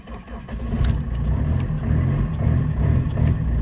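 A BMW E46 drift car, unstarted for a day or two and loaded on a trailer, fires up close by: a steady, rumbling engine settling into a rough, loud idle right after starting, with no talk.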